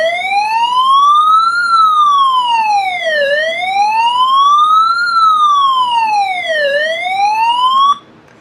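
An emergency device's SOS alarm blares a loud, close, wailing siren. Its pitch rises and falls in slow sweeps for about eight seconds, then cuts off abruptly.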